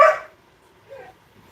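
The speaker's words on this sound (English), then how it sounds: "If you want to bark, you go outside." A single close, loud dog bark at the start, then a softer short whimpering sound after a pause.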